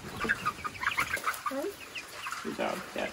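Chickens clucking inside a DIY backyard coop, with close, busy cackles and short chirpy calls overlapping continuously, while faint voices are heard in the background.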